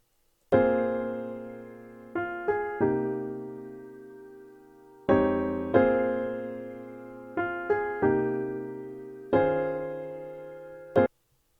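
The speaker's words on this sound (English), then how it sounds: "And what I started with for this sample is a piano from Piano Tech." A Piano Tech YC5 close-mic piano preset plays sustained chords, alone and up close, each chord struck cleanly and left ringing, in two similar phrases with quick repeated stabs between longer held chords.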